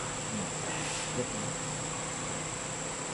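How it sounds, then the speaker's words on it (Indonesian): Bees and flies buzz in a steady, faint insect drone that stays even throughout, heard alone without any voices. "Ada ilustrasi lebah dan lalat."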